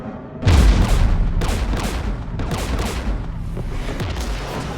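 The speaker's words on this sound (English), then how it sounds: "We're taking fire." Sustained gunfire and booming explosions in the sci-fi shooter Mass Effect 3, a sudden heavy blast opening a dense, continuous barrage of rapid shots and impacts that stays loud throughout.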